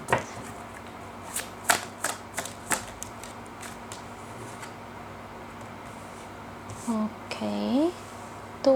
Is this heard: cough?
no